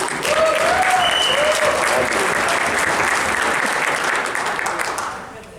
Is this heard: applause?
yes